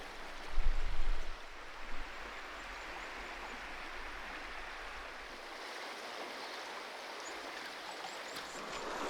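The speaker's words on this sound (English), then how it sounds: "So now I'm going to cross the river and walk downstream" River water rushes and gurgles steadily around someone wading across on foot while fly fishing, a broad continuous hiss of flowing current, close and constant, with a few low sloshing thumps from the crossing near the start.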